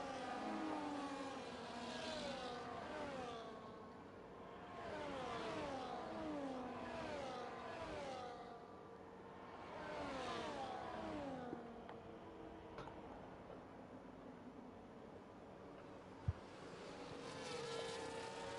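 Formula-style race cars in an esports league video game race at Miami, on hard and medium tyres: high engine whines rising and falling over and over as several cars pass, steady and moderately loud, with no talk.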